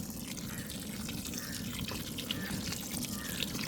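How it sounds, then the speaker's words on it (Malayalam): Vinegar poured into simmering mustard mango pickle gravy in a pot, a steady close liquid pour with soft bubbling underneath and no speech. "വിനാഗിരി ഒഴിച്ചു കൊടുക്കാം"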